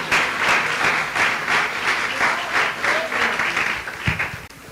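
A church congregation applauds during a worship service, loud and sustained clapping that swells in rhythmic waves and carries on for several seconds before starting to thin out.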